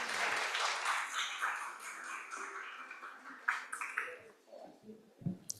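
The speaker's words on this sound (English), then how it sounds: "Let's give a round of applause to our dignitaries here on stage." Applause from an audience at a PR and corporate communications conference, fairly faint and fading, a spread of hand claps for dignitaries on stage tapering off toward the end.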